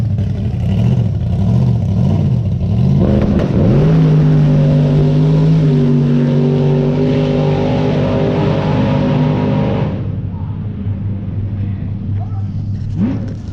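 Fast cars revving and accelerating down a drag strip, with loud sustained engine roar and rising rumble that drops away near the end; a voice can be heard faintly under the noise.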